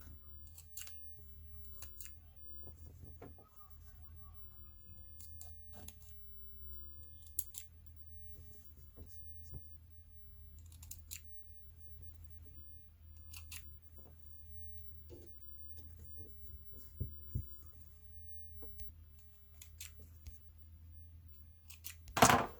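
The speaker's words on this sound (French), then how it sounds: "vous prenez votre ciseau ou bien votre coupe-fil et vous coupez" Scissors snipping thread while sewing a small fabric pouch: sparse, quiet metallic snips and clicks over a low hum, with one louder handling sound at the very end.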